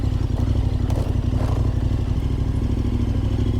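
A KTM S-model motorcycle rides along a ridge trail in Bulgaria, its engine running steadily and loudly up close, with some clatter and scraping from the rough ground.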